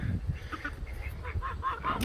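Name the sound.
guinea fowl calling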